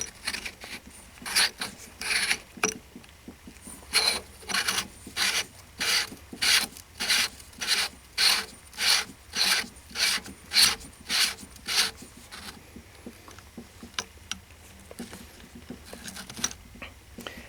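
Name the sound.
Rock River AR pistol buffer tube being screwed in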